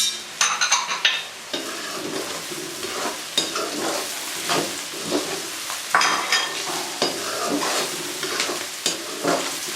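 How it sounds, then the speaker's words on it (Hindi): Onions frying with red tomatoes and green chillies hiss and sizzle close up, while a spoon scrapes and stirs the pan in repeated strokes; no talking. "अब हमें इसको अच्छी तरह भूनना है, लेकिन ख्याल रहे कि प्याज जलना नहीं चाहिए।"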